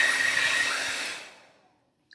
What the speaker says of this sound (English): I did use a hairdryer, and I think it did work